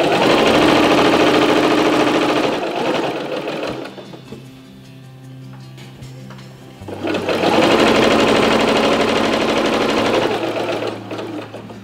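Sewing machine stitching a seam on a linen tea towel, running in two loud sustained bursts with a quieter pause of lighter stitching and mechanical whirring between them; no talking.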